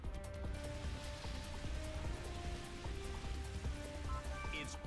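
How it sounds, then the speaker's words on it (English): Steady pouring rain in a Pokemon Battle Revolution battle in the Colosseum, a dense continuous hiss that fills the whole clip at an even level, with game music tones running underneath. "It's pouring rain in the Colosseum."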